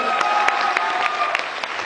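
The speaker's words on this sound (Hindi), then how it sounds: "जोरदार ताली हो हमारे बड़के भैया के लिए।" Audience applause at a Bhojpuri film event celebrating the success of Kashi Amarnath, a steady loud burst of clapping with a few sharper claps poking through, no voices over it.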